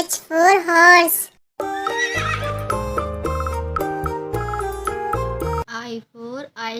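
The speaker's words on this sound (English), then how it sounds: "H for horse." A horse gives a loud, close whinny, then musical chimes play, and shorter neighs return at the end.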